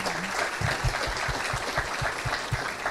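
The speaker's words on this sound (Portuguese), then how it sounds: "Uma salva de palmas, por gentileza." Applause from the audience at the BR Angels business and innovation forum in Brazil, a dense, steady crowd clapping with a rhythmic pulse running through it, fairly close and continuous with no voices over it.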